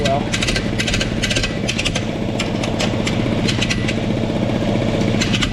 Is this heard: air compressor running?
yes